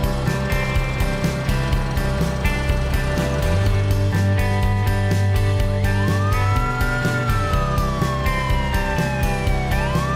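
An ambulance siren wails continuously, a loud electronic tone sweeping up and down over a steady engine drone, with the pitch gliding downward toward the end as it passes.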